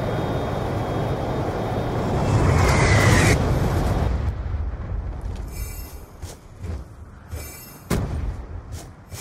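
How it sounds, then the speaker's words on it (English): A Hellstorm missile in Black Ops II roars in with a rising rush and booms into a loud explosion, followed by fading rumble and scattered sharp gunshots afterward. "Hellstorm missile inbound."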